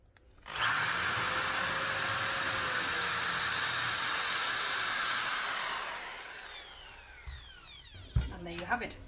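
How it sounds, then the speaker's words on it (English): A power drill whines at high speed boring into pine wood, a loud sustained whir that slowly drops in pitch and winds down, followed by a few clunks. "when drilling pine, do it at a high speed and low drilling pressure."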